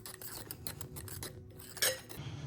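A spoon clinks and scrapes against a bowl while mixing food, quick light taps and rubs in a loose rhythm with one sharper scrape near the end, close but quiet, no speech.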